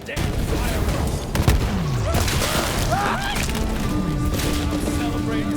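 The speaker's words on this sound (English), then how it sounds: "The devil riders are celebrating the sheriff's death with damn fireworks." Fireworks burst in the Borderlands 3 video game, sharp cracks and pops scattered over a steady dense background of game noise, with whistling rising streaks between the blasts.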